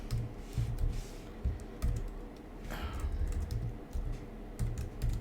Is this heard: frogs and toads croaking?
no